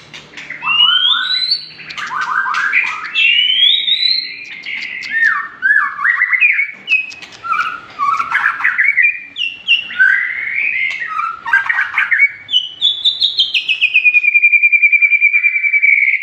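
A white-rumped shama sings a long, varied run of loud, clear whistles and chirps, phrases shifting in pitch with short pauses between, then a sustained note.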